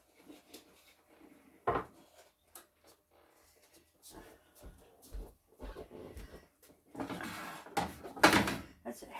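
A heavy pan of Michigan comfort food is slid into a home oven heated to about 300 degrees, with a solid clunk near the middle and clattering thuds toward the end, set among kitchen bumps and soft speech.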